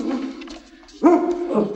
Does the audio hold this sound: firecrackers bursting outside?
no